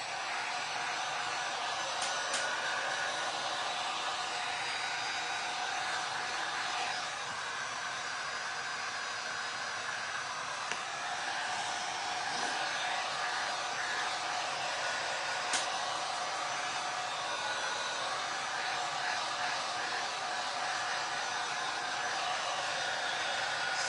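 Steady whooshing roar of a hair dryer blowing over a decoupage silver tray, continuous and fairly loud with faint small knocks underneath, no voices.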